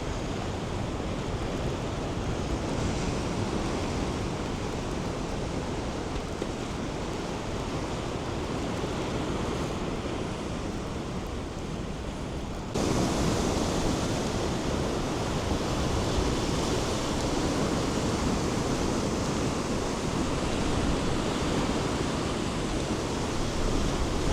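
Small ocean waves wash steadily against the shore at Pouch Cove, a continuous broad surf hiss with wind noise, growing slightly louder partway through, with no voices.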